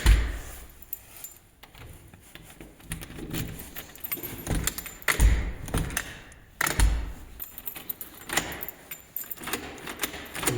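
Keys jangle and clink in several bursts beside an aluminium door, with sharp metallic rattles and knocks spread across the stretch, fairly close and with no talk.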